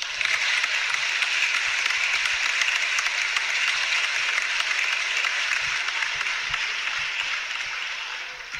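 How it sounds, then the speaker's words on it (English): An audience applauds in a dense, steady wash of clapping that holds for about eight seconds and then eases slightly, with no talk over it. "Can we just give a round of applause?"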